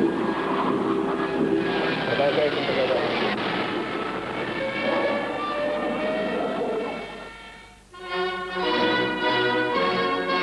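An experimental Yak jet aircraft roars during takeoff somewhere in Siberia, a loud, dense rumbling engine noise that holds steady before dipping briefly and giving way to a harsher tonal whine near the end.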